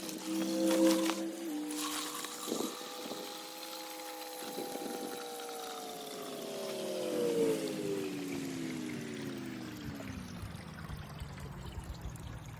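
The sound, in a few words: filling a bucket with water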